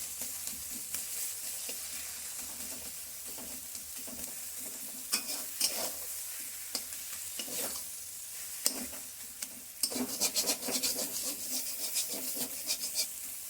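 A metal spatula stirs sour taro flower curry in a pan over low heat, with soft scraping strokes and a faint sizzle, quiet and close.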